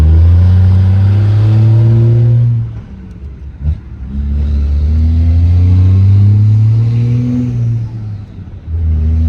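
Chevrolet Trailblazer SS engine droning steadily while driving, a loud low rumble that rises in pitch through two long pulls, easing briefly between them before climbing again.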